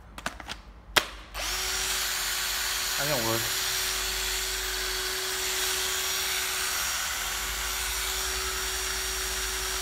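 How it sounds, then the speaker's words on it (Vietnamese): A Hitachi 12V cordless drill starts after a few clicks and knocks, then runs at a steady, close whine until the end, with a brief spoken remark near the start. "một bộ máy khoan Hitachi 12V"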